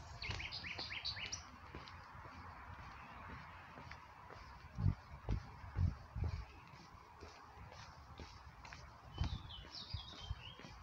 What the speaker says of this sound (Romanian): Se aud păsărelele, ia uite,